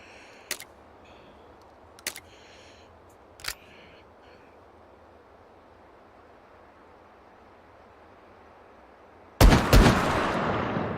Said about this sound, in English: I see we have a rifle over here for skeet shooting